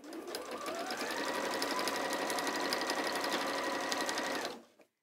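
A sewing machine runs continuously, stitching a cushion seam with a fast, steady whirring rattle, close and loud, before stopping abruptly near the end.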